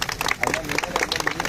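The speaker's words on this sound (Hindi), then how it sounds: "तालियां।" Audience clapping and cheering at a Bhojpuri film event, a brief burst of scattered applause mixed with crowd voices and speech babble.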